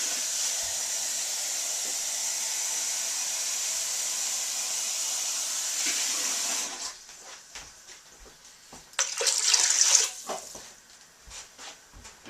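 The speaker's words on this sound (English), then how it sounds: "Probably going to need to add about 4 more cups of water." Water pours into a pot of beer stew as a steady hissing stream, close and continuous for several seconds, then stops, followed by sporadic clinks and splashes.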